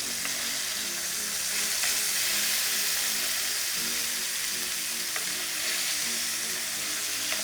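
A chicken breast sears in a hot pan, giving a steady, close crackling sizzle that runs the whole way through with faint scrapes.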